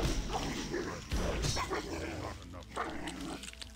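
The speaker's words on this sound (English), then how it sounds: "Stop barking!" Dog barking and growling in World of Warcraft, several sharp yips and barks over a busy, cluttered game soundscape with no speech.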